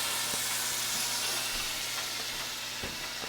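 Tomato sauce poured into a hot pot for tofu parmigiana, giving a steady close hiss and sizzle with a few soft knocks, and no one speaking.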